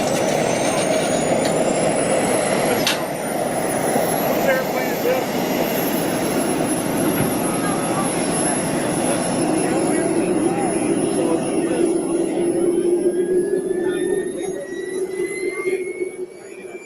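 An RC model airplane engine in flight gives a loud, continuous high-pitched whine with rising and falling pitch sweeps as the model passes and turns, steady throughout with a broad droning body underneath.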